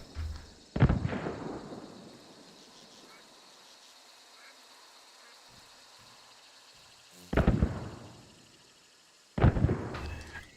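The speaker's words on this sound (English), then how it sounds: "This is how it sounds in first person when you shoot" Three heavy first-person gunshots from the video game Hunt: Showdown, each a sharp, loud blast with a long rumbling tail. The first lands early, the next two come close together near the end, with quiet gaps between.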